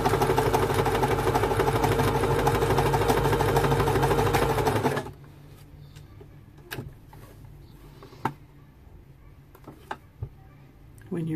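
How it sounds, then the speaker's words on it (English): A sewing machine runs steadily with a fast, even mechanical whir while stitching a simple 3D face mask, then stops abruptly, leaving quiet room tone with a few scattered small clicks and handling sounds. "you leave the needle in and just put the presser foot back down and continue."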